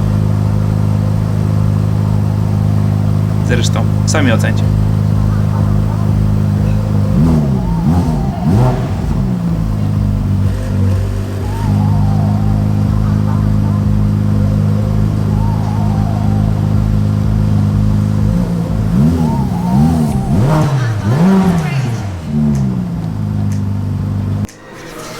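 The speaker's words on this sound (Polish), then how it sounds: "bardzo ładny dźwięk V8 podwójnie doładowany i te turbiny nie psują w ogóle tego dźwięku" Twin-turbocharged V8 of a Ferrari F8 Spider revving loudly at close range in a Warsaw showroom, a steady idle rumble broken by two sharp bursts of rising and falling revs, with a brief spoken phrase over it.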